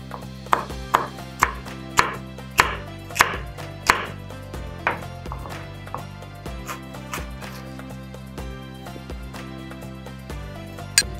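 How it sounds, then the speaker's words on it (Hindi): Capsicum is chopped with a knife on a board, a run of crisp, evenly spaced thuds that starts regular and then turns quicker and lighter, close and clear. "इसके बाद मैं इसमें ऐड करने लगा हूँ शिमला मिर्च, इसको भी आपने चॉप कर लेना"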